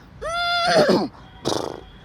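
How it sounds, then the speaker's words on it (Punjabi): A tonga horse neighs nearby while stopped at a railway crossing gate: a high, shaky whinny sliding downward, followed after a pause by a shorter snorting burst. "ਤੇ ਉਹਦਾ ਘੋੜਾ ਹਣਕਿਆ"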